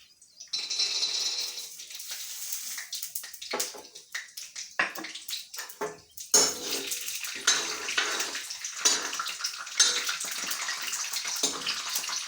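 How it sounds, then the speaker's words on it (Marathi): Peanuts sizzle and crackle as they fry in hot oil, a dense, bubbling hiss broken by quick irregular pops and spits that run steadily and fairly loud close by. "तेल गरम करून घेतलेलं आहे। चला तर आपण शेंगदाणे टाकूया।"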